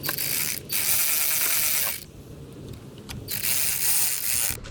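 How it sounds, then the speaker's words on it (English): Two screws are driven into the air box of a 2023 BMW S1000RR/M1000RR superbike during a BT Moto Stage 2 install. Steady bursts of rapid ratcheting or driver whirring come close up, separated by brief pauses, with no talking. "screw in your 2 screws right there"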